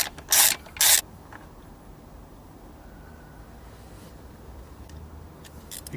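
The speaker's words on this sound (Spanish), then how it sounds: "Con una llave de 14 quitamos este tornillo también." A 14 mm wrench works a bolt loose on a Honda CB500X front brake caliper, giving two short, sharp metallic bursts near the start before the clip settles into quiet room tone.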